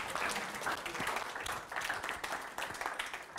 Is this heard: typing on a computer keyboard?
no